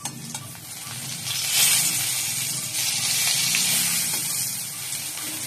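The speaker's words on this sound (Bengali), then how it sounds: "এই যে বন্ধুরা পটলটা ভাজছি" Pointed gourd (potol) frying in oil in a home kitchen, a steady bright sizzle that swells after a second or so and holds, with faint stirring underneath.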